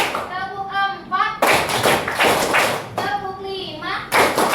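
A class of children claps in counted rhythmic patterns, sharp bursts of hand claps alternating with the teacher and kids chanting the counts aloud.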